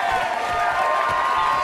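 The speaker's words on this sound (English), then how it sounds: "Let's give them a round of applause!" A crowd applauding at a Ponyville party for special ponies, a dense wash of clapping and cheering voices running continuously and fairly loud, with a sustained tonal hum underneath.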